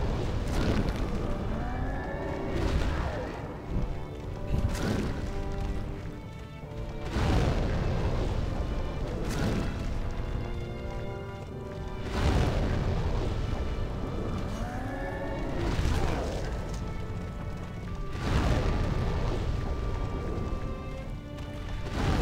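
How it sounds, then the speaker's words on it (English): Flamelurker boss in Demon's Souls sets off repeated fiery explosions, heavy booms recurring every couple of seconds over a dense rumbling battle din. "the Flamelurker is like exploding things all around me"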